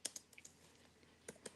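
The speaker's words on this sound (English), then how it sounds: "I'm typing." A few scattered keystrokes on a computer keyboard, faint and irregular clicks with short pauses between them, close by with a quiet room behind and no talking.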